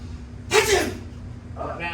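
A magician's single exaggerated fake sneeze aimed at a coin, a sharp burst of breath followed by a softer trailing exhale, close and fairly loud over faint room hum.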